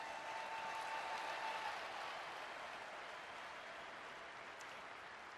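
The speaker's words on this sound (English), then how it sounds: "Let's give all of them a big round of applause." Applause from the audience at a speaker panel meeting in Akron, Ohio, a steady wash of clapping that stays fairly even and gradually eases, heard from a distance.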